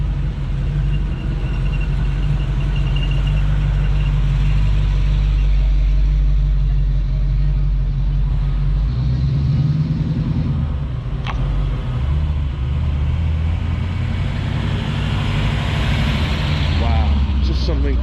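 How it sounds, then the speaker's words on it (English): Hot rods and classic cars roll past at an outdoor car show in Central Florida, their engines a steady, loud, low rumble throughout, with faint voices in the background. "just some incredible cars coming down through here"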